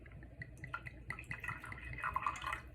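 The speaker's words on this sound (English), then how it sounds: "let me pour it in the glass first" Tequila poured from a bottle into a glass, soft trickling and dripping liquid sounds close by but faint, in short irregular bursts that grow slightly fuller toward the end.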